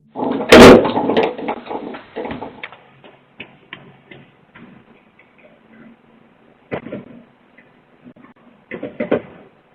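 A house front door bangs loudly as an intruder runs out, caught on home surveillance, followed by scattered softer clicks, knocks and footsteps indoors.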